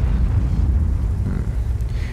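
A tank destroyer's gun fires a blind shot in World of Tanks: a loud, low, rumbling boom that fills the whole moment and slowly decays.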